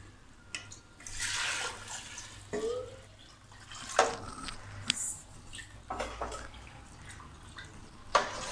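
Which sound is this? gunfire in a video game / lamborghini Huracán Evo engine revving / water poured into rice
water poured into rice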